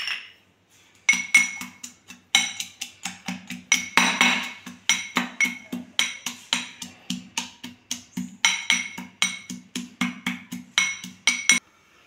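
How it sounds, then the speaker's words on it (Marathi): Chili pieces and garlic cloves crushed in a mortar and pestle, with steady rhythmic pounding knocks that repeat many times close up, in bursts separated by short pauses. "मिरच्यांचे तुकडे आणि लसणाच्या पाकळ्या मी खलबत्त्यामध्ये"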